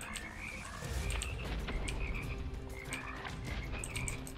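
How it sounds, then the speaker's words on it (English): Frogs croak repeatedly inside the Immortal Redneck video game, short bright calls recurring at a steady rhythm over a dense, loud, continuous low game rumble. "Oh gosh, frogs."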